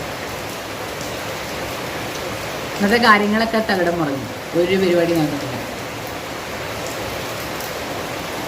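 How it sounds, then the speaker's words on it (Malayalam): Steady, dense hiss of heavy rain pours throughout, with a person speaking briefly over it in the middle. "നല്ല മഴയല്ലേ"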